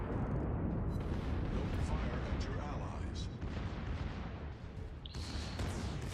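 Secondary guns on a battleship fire at an enemy ship during a World of Warships naval battle, a dense rumble of booming shots and explosions that continues throughout.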